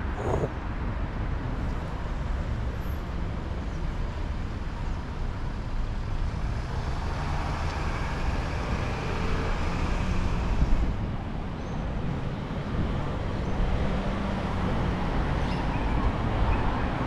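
Steady road traffic flows past outside Adelaide Oval stadium, a continuous low rumble of cars and heavier vehicles at moderate distance with no single pass standing out.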